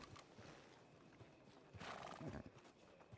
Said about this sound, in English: What type of horse is that? It's a baby Shire horse.